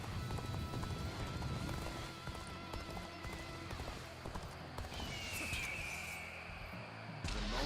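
Horses galloping in Dynasty Warriors: Origins during the Subjugation of Kuaiji battle: a continuous clatter of hooves under dense battlefield noise, with a bright whooshing effect near the end and no talk.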